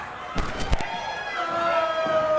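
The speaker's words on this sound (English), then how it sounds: "Oh, just slamming his head into the mat now." At a pro wrestling match, a wrestler's head is slammed into the ring mat with a couple of sharp thuds, followed by a crowd roar and commentary talk.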